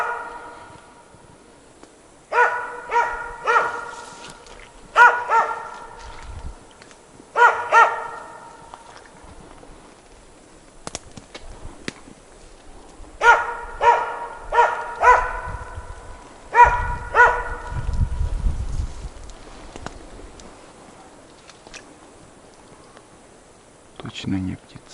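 A dog barks in irregular bursts of several yelps, pausing between groups, with occasional low speech in the background.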